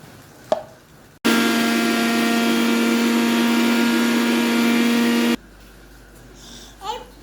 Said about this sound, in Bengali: এখন আমি ভর্তা করব ব্লেন্ডারে